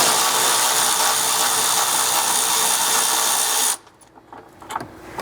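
A power tool with a 12mm socket drives out a bumper brace bolt on a 4th gen Toyota Tacoma, whirring loud and steady for nearly four seconds before cutting off, followed by a few faint clicks and clanks.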